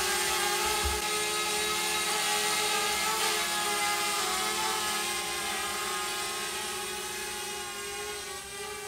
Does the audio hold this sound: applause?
no